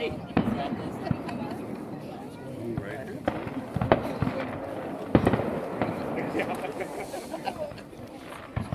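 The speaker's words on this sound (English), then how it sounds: "Pretty cool fireworks." Fireworks pop and crack repeatedly outdoors at night, a steady run of sharp medium-distance bursts with one louder bang midway, while people chat nearby throughout.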